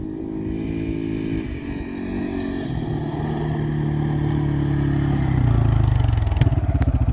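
Vehicle making a partial-throttle run down a homemade drag strip on a farm, a steady loud engine drone that climbs in pitch and grows louder as it accelerates, ending in a rapid rattling pulse.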